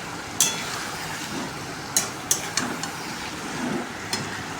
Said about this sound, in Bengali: এখন দিয়ে দিচ্ছি চিকেনটা আগে থেকে পরিষ্কার করে দিয়েছি ভালো মতন এখন চিকেন কষাতে থাকবো কিছুক্ষণ ধরে